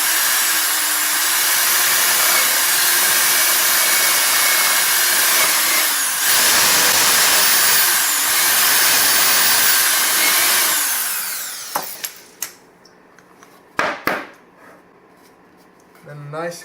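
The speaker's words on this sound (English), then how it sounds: "you just drill it through." A mobile drill press bores a hole through wood on a 1998 Bayliner boat under restoration, a loud continuous whine with a dip partway through, then the motor cuts off and a few knocks and clunks follow in near silence.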